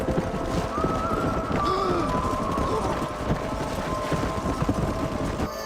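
Horse hooves clip-clop in Red Dead Redemption Remaster on PC, a steady galloping patter under ambient game sound and a brief whinny-like tone, with someone talking over it.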